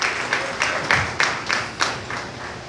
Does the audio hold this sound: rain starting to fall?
no